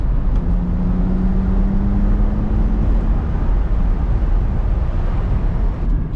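A BMW Z4 E85 heard from inside while accelerating, a loud steady engine and exhaust drone with a rising tone early on, mixed with road and wind rumble throughout.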